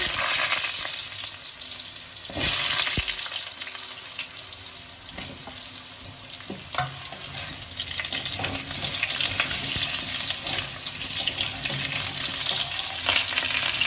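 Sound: frying cut potatoes in spiced oil

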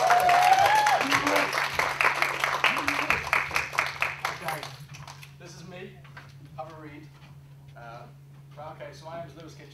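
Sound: audience applause for a lecture speaker

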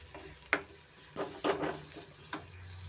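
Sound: frying onions with ginger garlic paste and pepper

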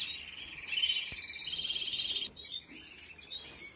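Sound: small bird chirping while being ringed

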